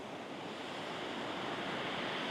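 Loud, continuous roar of surf washing over a pebble beach in Brighton, broadband and steady throughout with no voices.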